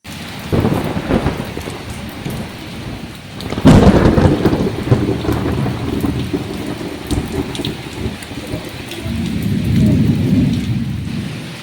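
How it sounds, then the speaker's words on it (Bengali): Heavy rain pours outside on an evening, a dense, steady roar of drops, broken by a sharp, loud thunderclap partway through, followed by rumbling as the downpour swells again. "বাইরে বিশাল ঝমঝম করে বৃষ্টি নামিয়েছে"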